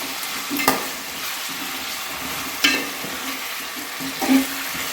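Chopped onions frying in oil for a chicken curry, a steady bright sizzle running throughout with three sharper scraping stirs of a spoon against the pan, close and fairly loud, no voices.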